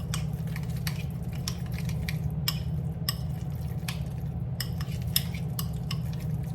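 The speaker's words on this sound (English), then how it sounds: "Mix this up now. So lots and lots of seasoning in here." Chicken pieces are stirred with seasoning in a bowl, giving a string of soft, irregular wet squishes and light utensil clicks over a steady low hum, close and quiet, with no talking.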